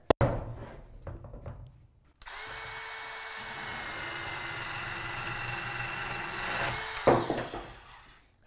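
A Dewalt band saw cuts through rebar in a sustained, loud, whining metallic cut lasting about five seconds, with a few clicks and knocks before it starts and a clatter as it finishes.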